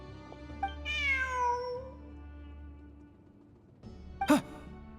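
A cat meows in the video game Genshin Impact: one long, wavering, falling meow up close, then a short sharp second meow a few seconds later, over a faint ambient game background.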